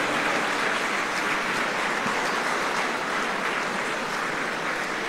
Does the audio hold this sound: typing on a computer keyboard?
no